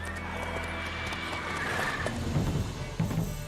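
Roach, the horse in The Witcher 3: Wild Hunt, whinnies over a steady game backdrop of ambient hum, with hoof clops and thuds near the end.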